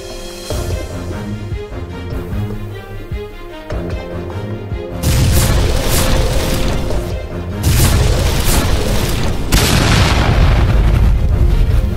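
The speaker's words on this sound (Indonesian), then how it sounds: "kamu dengar suara ledakan nggak?" Heavy booming explosions in an animated battle scene, with a rumbling low drone that bursts louder at intervals into broad crashing blasts, without talk.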